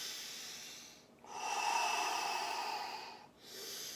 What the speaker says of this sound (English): Take a couple deep breaths in here.